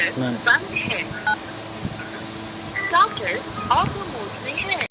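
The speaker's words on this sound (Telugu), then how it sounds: "నెంబర్ సెవెన్ డైల్ చేయండి" Short keypad dialing beeps from a phone used to operate a BCH GSM mobile motor controller, a few separate tones over steady background hum while someone talks.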